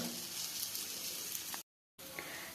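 Egg adai, a South Indian egg and lentil pancake, sizzling steadily in a pan over low heat, a continuous close hiss with a brief gap of silence before it resumes.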